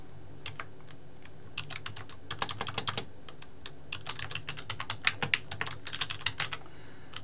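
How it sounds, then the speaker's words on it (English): Fingers tap on a computer keyboard in quick, irregular bursts of crisp key clicks, close and fairly quiet, with short pauses between runs of keystrokes. "I'm going to type business."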